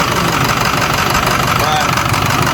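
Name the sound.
Ford 6.0 Powerstroke diesel engine idling with misfire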